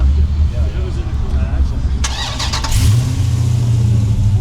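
An older-model Dodge Challenger engine with headers rumbles loudly and steadily, with a brief rise in revs partway through and voices talking over it.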